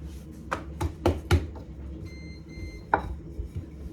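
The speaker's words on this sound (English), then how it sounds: "You'll roll it out a little, flour the board, flip it over." Sticky egg roll dough of fresh-milled flour is rolled and flipped on a floured board, giving a run of soft rhythmic thumps and taps up close, then a brief higher squeak and a last knock.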